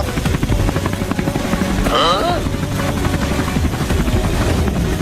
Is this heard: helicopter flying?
yes